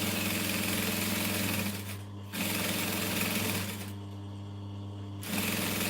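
A sewing machine stitches a seam on a business bag, running in a loud steady buzz with two short pauses where it stops and restarts, no voices.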